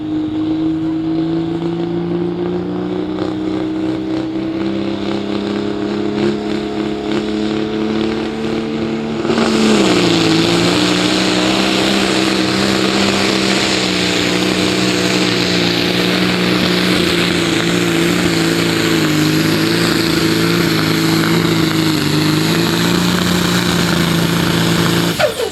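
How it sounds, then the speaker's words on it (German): A Pro Stock 3.5-tonne pulling tractor engine at a tractor pulling event in Füchtorf, revved slowly in the start area, a loud steady drone that jumps to a harsher, louder roar partway through and holds there. "gibt hier die Anweisung, im Startbereich den Motor langsam hochzudrehen"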